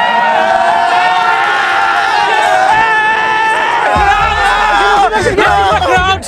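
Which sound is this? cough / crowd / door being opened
crowd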